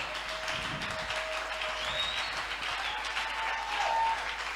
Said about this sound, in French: Est-ce qu'on peut encore acclamer très fort pour du Seigneur?